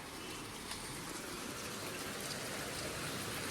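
Heavy early-morning rain pours onto Mall Road in Darjeeling, a constant, dense hiss of downpour on the street at an even, moderate level with no voices.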